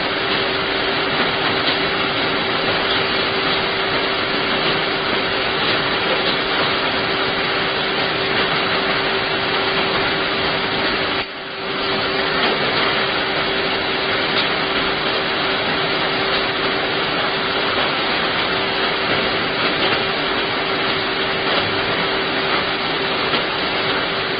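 Steady welding along a channel in a knife-making fixture, a continuous broadband hiss with a faint steady tone that runs almost unbroken, apart from one brief dip near the middle, with no talk.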